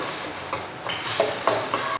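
Mashed potato tempering in oil with cumin, ginger-chili paste and onion sizzles softly while a spoon scrapes and stirs in a few distinct strokes, close and fairly quiet.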